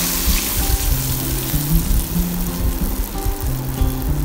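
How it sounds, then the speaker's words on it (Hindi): Water poured into a pan of chopped garlic frying in butter for garlic butter chicken, a loud continuous sizzle and bubbling with low pan rumble throughout. "अब इसमें 1 कप पानी ऐड करते हैं।"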